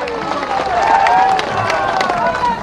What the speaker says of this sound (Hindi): हमारे प्रधानमंत्री नरेंद्र मोदी जी के लिए जोरदार ताली बजाकर।